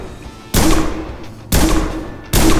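Pistol shots from the Prison Simulator video game, three loud broadband blasts about a second apart, each with a short decaying tail, with no talk over them.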